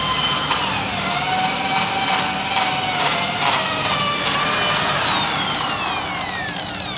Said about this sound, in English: I'm going to start on the bow just with a drill and the wire brush